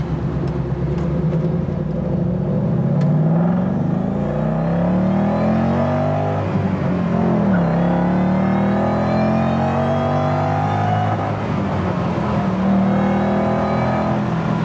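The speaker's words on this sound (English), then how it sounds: "I could hear that supercharger opening up" A 1967 Mustang restomod's supercharged engine roars loudly and close, revving up through rising pitch sweeps, easing off and climbing again with a strong whining supercharger tone.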